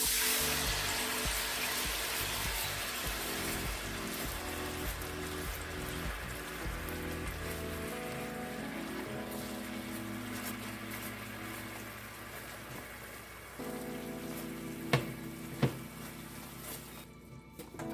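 Garlic butter sauce sizzling and bubbling in a hot pan of shrimp stir fry, a steady crackling hiss that holds throughout, with a couple of sharp clinks from a utensil near the end.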